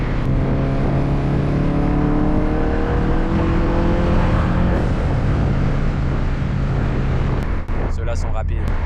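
Cars accelerating hard in a race against a diesel truck, a loud sustained engine roar with rising revs for most of the stretch, ending in a brief rattling burst near the close; no talk.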